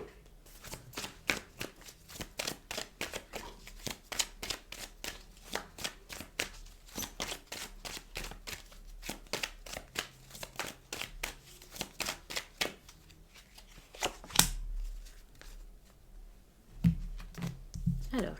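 Tarot cards are gathered and shuffled, a long run of quick, crisp riffling snaps close up that ends in a few heavier slaps and taps, with light talk at times.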